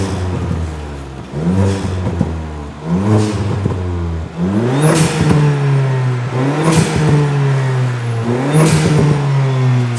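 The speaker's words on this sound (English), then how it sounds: "So that was a Forge Motorsport BOV." A 1.2 TSI car fitted with a Forge Motorsport blow-off valve revs up close by several times. After the later revs comes a sharp hissing release, giving a rhythmic pattern of rise and whoosh.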